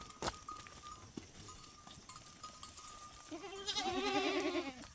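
Goats being walked through the jungle bleat close by near the end, with wavering calls over soft rustling footsteps and a few faint knocks and clinks earlier.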